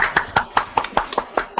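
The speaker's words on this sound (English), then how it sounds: "round of applause" About nine sharp, evenly spaced hand claps ring out close to a podcast microphone, a brief joking round of applause from one or two people.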